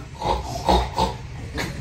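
A person imitates a pig, making four short, grunting oinks in an uneven rhythm, close to the mic.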